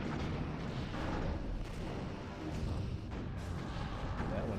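Quantum torpedoes firing in the space combat game Star Trek: Bridge Commander, a loud, dense booming rumble that runs continuously with heavy low-end blasts and no pauses.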